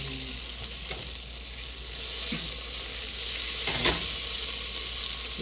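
Butter melts in a hot pan with a steady close sizzle and crackle and a few soft stirring scrapes, no voices.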